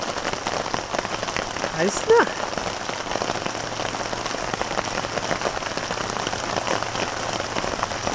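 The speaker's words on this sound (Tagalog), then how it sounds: "Makinig ka lang sa ulan" Steady rain patters on surfaces at a free campsite in Dingalan, a dense, even hiss close around the listener, with a brief murmured voice in the middle.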